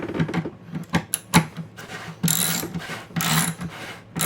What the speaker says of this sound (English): I use a 1/4 inch socket drive